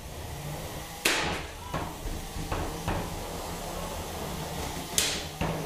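Three-pound combat robots collide in an arena, giving several sharp metallic bangs and knocks at irregular intervals over a steady background hum.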